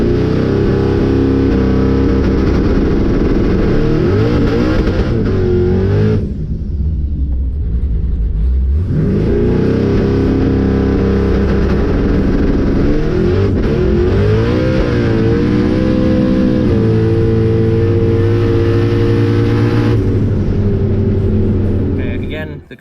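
A drag car on a test pass revs hard, drops briefly, then roars back up and launches, its loud engine rising and falling through gear changes close by for over twenty seconds.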